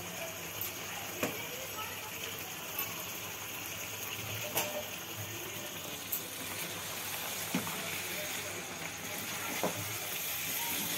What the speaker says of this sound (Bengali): চালটা দিয়ে এবার একটু কষানো হবে আরও কিছুক্ষণ।